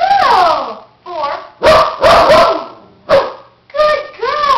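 A female dog gives a series of loud, close barks and yips on command while a person speaks in between, the barks coming in short bursts separated by pauses.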